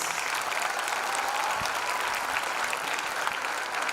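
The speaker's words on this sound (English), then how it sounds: "These veterans deserve a felicitation with a loud round of applause." An audience at an international school's annual prize day in Jeddah gives veterans a round of applause, with an even, continuous wash of many hands clapping at moderate volume.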